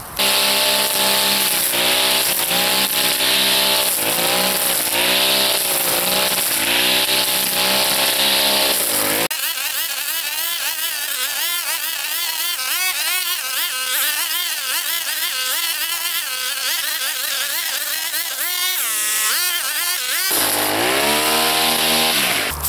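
An Oregon brush cutter fitted with Jet-Fit/Flexiblade 4mm blades tears through heavy scrub, its two-stroke engine screaming loudly and continuously, revving up and down as the blades bite, close by with no talk.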